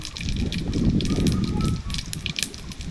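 Dried red chili and five-spice seeds sizzling in hot oil, a loud close crackling hiss that swells in the middle and settles toward the end.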